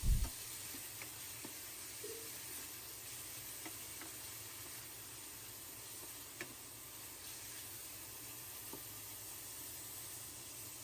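Ground meat sautéed with fried garlic in a pan for Baguio beans: a quiet, steady sizzle with occasional soft ticks and scrapes of stirring, no voices.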